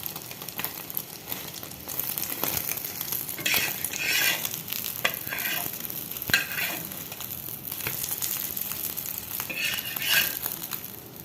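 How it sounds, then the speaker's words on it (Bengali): An egg frying in oil in a pan for egg pitha, a close, steady sizzle and crackle with bursts of louder spitting and occasional utensil clicks, no voices. "এখানে যে আমার ডিম ভাজা হয়ে গেছে।"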